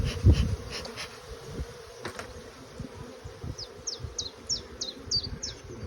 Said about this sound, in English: A lot of bees on this super as well.